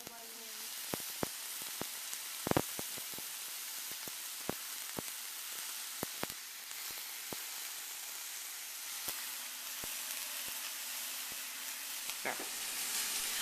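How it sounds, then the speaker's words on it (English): Burgers sizzle in a hot pan over high heat, giving a steady, close frying hiss with scattered sharp pops and crackles throughout. "it's over high heat, and I'm going to cook the burgers in there"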